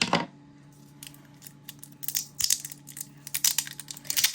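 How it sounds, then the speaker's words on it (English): Scissors snip and crunch through a roll of sellotape in a series of sharp, close cuts and crinkles, irregular and clustered, over a faint steady hum. "So, get your sellotape, pair of scissors,"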